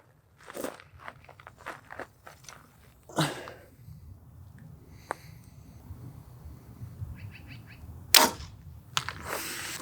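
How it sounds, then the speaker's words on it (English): Distant gunshots from someone shooting up the hill, a few sharp isolated reports scattered among quiet outdoor background noise and small nearby handling sounds. "Somebody's having fun up there shooting stuff."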